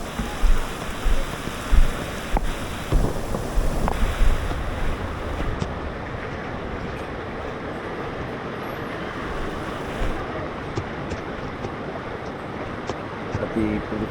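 The Santa Rita River in flood near Olongapo rushes loudly and steadily, a dense continuous roar of water with wind buffeting the microphone, heavier bursts at the start, then an even surge to the end.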